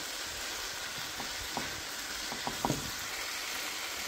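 Peppers stir-fry in a pan with white vinegar for Indo-Chinese fried rice, a steady close sizzle with a few soft stirring scrapes, no talking.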